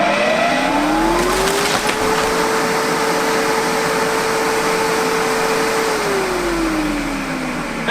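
A 60W Chinese laser cutter runs very loudly at close range, a steady droning machine roar with a whining tone that rises, holds steady, then falls again, without any speech.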